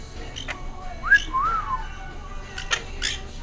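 A pet Quaker parrot or green-cheeked conure whistles a few short rising and falling notes during a spray bath, close to the microphone over a quiet room background.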